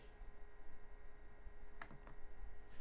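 Computer keyboard typing during an audio interface setup, heard as a couple of quick key clicks near the end over a steady low hum, faint and close.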